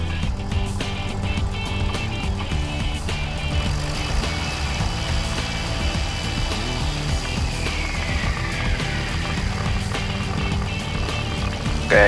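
Helicopter 9322 Romeo entering left base for runway 28 at Wayne County airfield, its engine and rotor producing a steady, close droning hum with layered tonal whine that stays constant.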